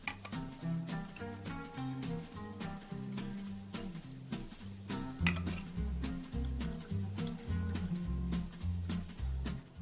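Homemade limoncello poured through a funnel into glass bottles, with repeated bright glass clinks and taps at an irregular, fairly quick rhythm over a low steady background hum.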